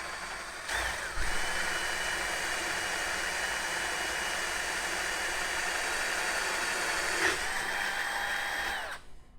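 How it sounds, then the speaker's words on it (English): A power drill bores straight down through the center of a cork, a steady loud whine holding for about nine seconds before cutting off. "I'm going to drill down through right in the center, and the cork is going to do this"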